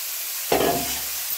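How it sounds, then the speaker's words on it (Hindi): Hot oil tempering hits potatoes with dill and fenugreek leaves for an Indian sabzi, a sudden loud sizzle that flares up and then settles into a steady hiss, close by, with no speech. "देखिए आलू का बस अब इसमें इसको हम छौंक देते हैं।"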